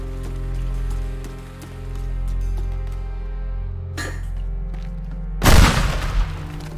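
A pipe bomb blows up in a video game: a loud, sudden blast with a long crackling tail, heard after a quieter stretch of ambient game sound and a brief rushing noise.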